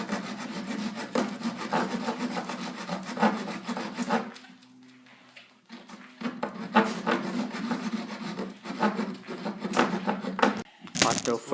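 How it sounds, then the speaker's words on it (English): A wooden dowel is hand-sawn in steady back-and-forth rasping strokes, close and fairly loud, pausing briefly around the middle before resuming with a few faint voice sounds. "now we're cutting the dowel"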